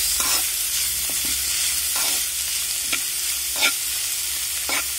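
Bamboo shoots adobo is stirred in a sizzling pan, with a steady fry hiss broken by repeated scraping strokes of a utensil and no one talking.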